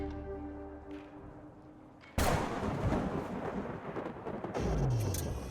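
A sudden lightning strike cracks into a loud, rolling thunder rumble in the video game Rue Valley, cutting sharply across quiet tonal game music, then fading before a second swell of rumble near the end.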